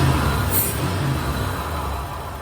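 An old truck's engine, fitted with a new distributor cap and cleaned rotor, runs at a loud, close, steady idle with a low rumble and no talk.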